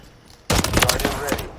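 Burst of rapid video game gunfire in a multiplayer capture-point match, loud and continuous after a brief quiet start, with overlapping shots rattling close by.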